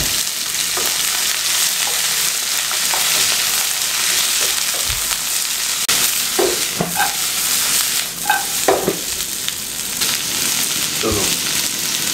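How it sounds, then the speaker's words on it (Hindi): Green beans and cauliflower fry in a pan with a loud, continuous sizzle, broken by scraping and clattering bursts as they are stirred. "और इनको अच्छे तरीके से फ्राई करना है।"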